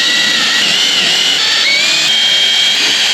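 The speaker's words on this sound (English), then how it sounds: "anytime you're drilling into fiberglass, you want to start small." Loud, steady, high-pitched whine of a power drill cutting into fiberglass on a boat, with slight shifts in pitch as it bites, alone and close.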